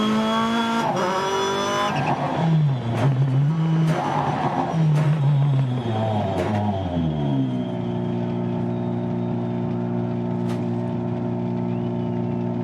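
A rally car in Dirt Rally 2.0 revs hard through gear changes and slides loose into corners, engine loud and close, then settles into a steady high drone for the rest of the run.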